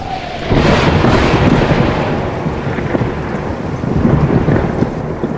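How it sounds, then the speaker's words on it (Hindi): Loud rolling thunder rumbles over steady heavy rain, the storm sound filling the whole clip. "बारिश लगातार हो रही थी और बिजली भी कड़क रही थी।"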